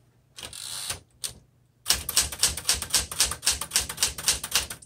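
A red 1960s Smith Corona Classic 12 manual typewriter clacks under steady typing, sharp close keystrokes in a fast even rhythm after a brief opening burst and pause.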